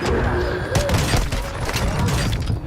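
Close, dense gunfire from the video game Call of Duty Warzone, bursts of shots over a loud, busy mix that runs the whole time, with a player talking over the noise.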